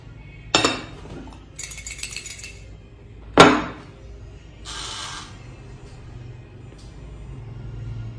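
Xoc dia dice rattled in a covered bowl on a plate, heard as two sharp clinking strikes each followed by a brief burst of rattling, with a quiet room hum between.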